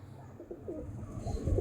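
Old breeding pigeons coo in soft, repeated throaty phrases up close, with a low background rumble and no talking.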